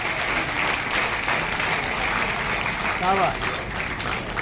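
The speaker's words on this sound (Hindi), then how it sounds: "एक बार जोरदार तालियां ऋचा के लिए।" Audience applause for a young girl named Richa at a Hindi poetry event, steady clapping across the whole stretch with a brief spoken word of praise over it.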